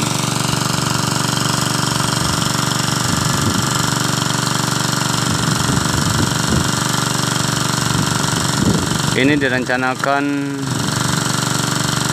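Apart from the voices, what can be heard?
bore well drilling machine running in a rice field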